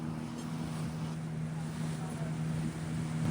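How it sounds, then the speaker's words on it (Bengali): A ship passes on the water near a mangrove, heard as a steady low engine drone with a constant hum, mixed with wind rumbling on the microphone. "জাহাজ আসছে দেখ"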